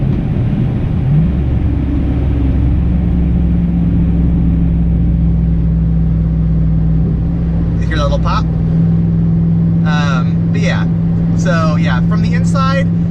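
A Chevrolet Suburban engine with its muffler removed drones with a deep, steady, throaty rumble throughout. Someone talks in short bursts over it in the second half.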